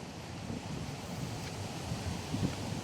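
Rough sea waves during Typhoon Uwan at a coastal former resort, a steady loud roar of surf mixed with heavy wind buffeting the microphone, continuous with faint surges and no talking.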